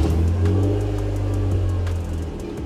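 A BMW E46 drift car engine idles loudly and close, a steady low rumble that swells slightly as it revs, with no talking.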